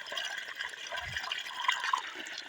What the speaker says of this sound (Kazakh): Прямой құдықтан шығып жатыр су.